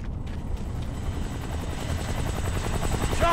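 Helicopter in the video game Kane & Lynch 2: Dog Days, rotor thumping low and steady, growing slightly louder as it approaches, with no voices over it.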